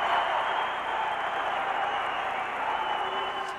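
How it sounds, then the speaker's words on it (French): Steady audience applause from a crowd at a French-language evening TV show, a dense wash of clapping that holds evenly for a few seconds with a faint voice or cheer mixed in. "On l'applaudit."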